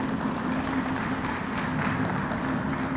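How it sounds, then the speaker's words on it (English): Steady, dense applause from an audience at a bridge completion ceremony for the 87th St and Roberts Rd bridge, a continuous wash of clapping held at even loudness throughout with no voices on top. "Give her a round of applause as well."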